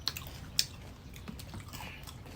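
Faint crunchy bites into a green mango followed by soft, moist chewing, with two sharp crisp snaps early on and quieter mastication sounds after, close up with no talking.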